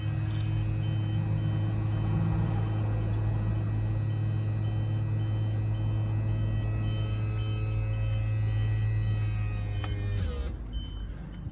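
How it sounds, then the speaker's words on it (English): Steady electric motor whine with a low hum from a powered jack lowering on a 2016 Elddis Affinity 550 caravan, running continuously for about ten seconds before cutting off abruptly near the end. "Now I'll bring down the other side jack to level it side to side again."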